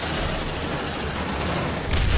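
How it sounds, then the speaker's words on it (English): Rapid, heavy plasma cannon fire from an APC in Aliens: Dark Descent, a dense rattling barrage of close, loud blasts that holds steady throughout and swells into a deeper boom at the end. "it pretty much one-shots anything that it shoots at with those plasma cannons"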